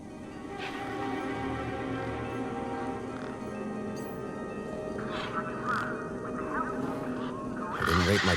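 A flock of birds honks and quacks near a truck in the video game Beyond a Steel Sky, with repeated squawks over a steady hum and background music, getting louder toward the end.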